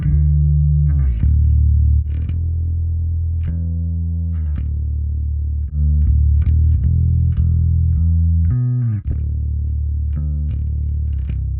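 A bass guitar plays a steady, repeating groove of sustained notes, its tone shifting subtly between sections as a Drawmer 1973 compressor is bypassed and re-engaged, while the rhythm continues unbroken.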